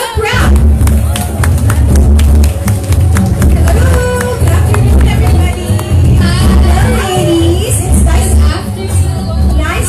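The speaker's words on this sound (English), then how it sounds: "giant round of applause, please, for Melissa Ricks and Helga Krapf." A talk-show studio audience gives a loud, sustained round of applause, with dense clapping and crowd murmur filling the room.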